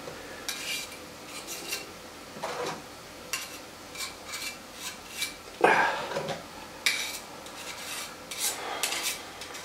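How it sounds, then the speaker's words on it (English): A trowel spreads and scrapes material in a quiet outdoor setting, with soft, irregular scraping strokes and a few sharper metallic scrapes spaced through, faint and unaccompanied by talk. "So I'm going to use my trowel now. Put this along the trowel."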